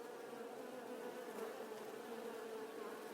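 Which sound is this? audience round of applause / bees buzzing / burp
bees buzzing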